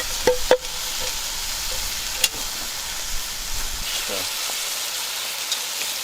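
Onions sizzling in brown butter inside a Dutch oven over a campfire, a steady hissing fry with a couple of sharp clinks early on, easing slightly toward the end.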